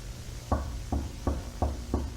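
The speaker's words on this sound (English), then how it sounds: "it suddenly cuts to someone knocking on the door" Five evenly spaced knocks on a door, firm and fairly close, each a short dull thud roughly every third of a second against a quiet low hum.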